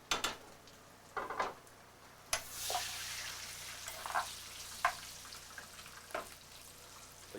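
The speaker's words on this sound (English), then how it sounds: "The onions, we're sweating these out a bit." Chopped onions sweating in rendered bacon fat in a pan, a soft steady sizzle broken by sharp stirring scrapes and spatula clatters, close and fairly quiet with no talking.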